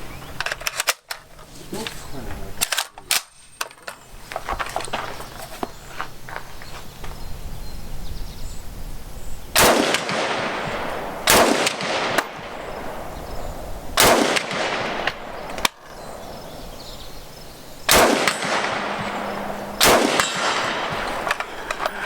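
Norinco Type 97 rifle firing at a 100-yard range: five or six sharp, loud gunshots spaced a couple of seconds apart, each with a short ringing tail, over outdoor background noise.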